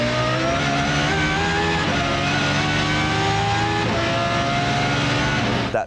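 V10 race car on slicks, revving to about 11,000 RPM on a track, a loud continuous screaming engine note with pitch steps up through the gears, close and alone before cutting off at the end.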